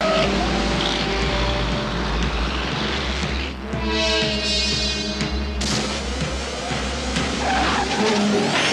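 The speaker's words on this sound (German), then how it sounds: "Und der Fahrer überschätzte die Geschwindigkeit in dieser Kurve und der LKW kippte um" A truck skids through a curve before tipping over in the film Convoy: a loud, sustained tire screech over a heavy engine roar fills the whole stretch, with no voices.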